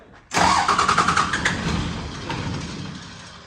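A Hino FD dump truck with an HO7C diesel engine bursts into a loud close rev, its throbbing exhaust pulses rising then slowly tailing off as the engine settles back down.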